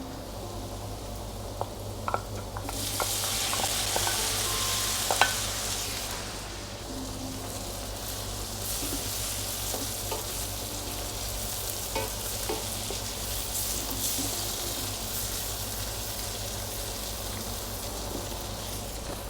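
Tomatoes frying and stirred in a pan for butter chicken: a steady close sizzle throughout, with louder hissing at first and occasional scraping stirs.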